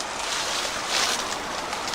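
A creek runs below a steep wooded hillside in a state park, a steady broadband rush of flowing water close by and fairly loud, with no voices over it.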